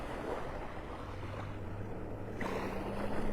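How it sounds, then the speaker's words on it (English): A boat motors out through Wiggins Pass off a Florida beach, its low engine drone faint and distant beneath steady wind and surf noise, with no one talking. "Boat heading out Wiggins Pass."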